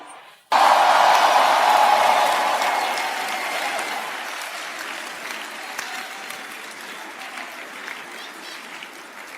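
A large congregation at a church service in Accra, Ghana bursts into loud, dense applause with cheering voices mixed in. The roar peaks right away and slowly thins and fades over several seconds.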